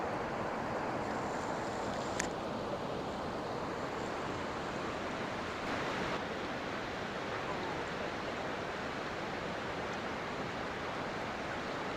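Waterfall and flowing river among ancient ruins: a constant, even roar of rushing water for the whole stretch, moderately distant, with one brief faint click and no talking.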